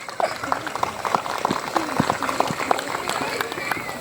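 Audience at a school annual function applauds the parents who sent their children to study there: a steady patter of many hands clapping, moderately loud and continuous for several seconds, with some crowd murmur underneath.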